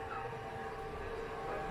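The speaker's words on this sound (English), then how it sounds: "They even have a toy train. And look how small it is." A small toy model train runs along its tracks at a model railroad museum, giving a steady, fairly quiet rolling hum with a faint rumble and no clear clicks or voices.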